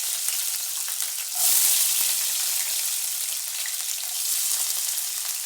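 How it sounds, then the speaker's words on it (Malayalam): Garlic, ginger and curry leaves drop into hot mustard oil with popped mustard seeds for a mango pickle, giving a close, steady sizzle that surges sharply as they go in, then settles into continuous crackling frying. "ഈ കടുക് പൊട്ടി കഴിയുമ്പോൾ നമ്മൾ നമ്മുടെ വെളുത്തുള്ളി, ഇഞ്ചി, കറിവേപ്പിലയും കൂടെ അതിനകത്തോട്ട് ആഡ് ചെയ്യുകയാണ്"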